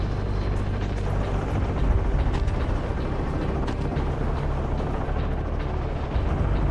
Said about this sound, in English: Above, the helicopter roars softly, circling the ruined fields.